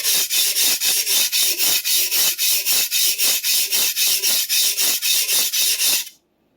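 A Clyde Cutlery chef knife is sharpened on a stone while the burr is worked. Close, loud rhythmic rasping strokes repeat about twenty times at an even pace, then stop abruptly into silence.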